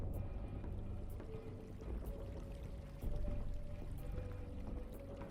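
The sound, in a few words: water trickling, ambient sound in a WW2 tabletop RPG session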